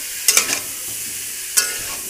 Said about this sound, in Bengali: টমেটো কুচি দিয়ে ভালো করে আমি নেড়ে চেড়ে নেবো, কষিয়ে নেবো